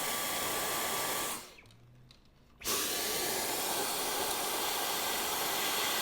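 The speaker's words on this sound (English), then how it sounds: "Vacuum that up too." A vacuum cleaner roars loudly and steadily, close by, as it sucks coffee grounds out of a Jura Impressa coffee machine. It drops to a muffled lull for about a second when the nozzle is blocked, then surges back to full hiss.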